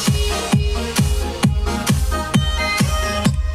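Layered electronic drums in a house-style remix: a deep punchy kick and clap hitting about every half second in a steady four-on-the-floor pulse, with bright hi-hat shimmer on top, loud and close with no voices.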